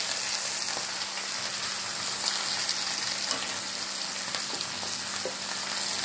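Onion and tomato with turmeric fry in a pan, giving a steady, close sizzle with faint stirring scrapes throughout.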